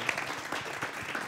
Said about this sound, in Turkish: Harikulade, alkışlıyoruz sizi